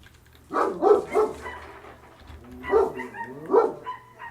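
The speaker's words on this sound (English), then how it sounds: "I'm sorry about my dog barking outside." A dog barks outside, heard from indoors. There are two groups of two or three sharp, mid-pitched barks with a pause between them. The barks are moderately loud, and nobody talks.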